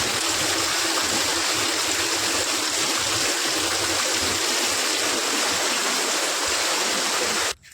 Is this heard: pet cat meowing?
no